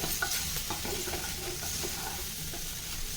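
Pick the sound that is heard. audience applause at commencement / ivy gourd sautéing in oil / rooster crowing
ivy gourd sautéing in oil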